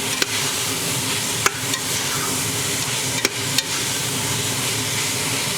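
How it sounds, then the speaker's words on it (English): Diced carrot stirred in a pan for bolognese sauce gives a continuous sizzling hiss with a few sharp scraping knocks of the utensil scattered through, close and steady, with no talking. "we stir this nicely"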